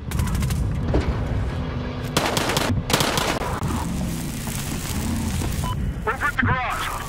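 Dense video-game gunfire in a chaotic shootout, loud overlapping shots and bursts with booming impacts, heard alongside shouted in-game voice lines and radio chatter.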